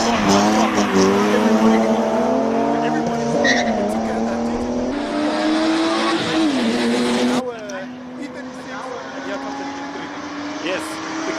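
A BMW E36 M3 race car warming its tires at a Cape Town hill climb, engine revving hard with squealing, skidding tires, loud and close, then easing off, with voices audible underneath.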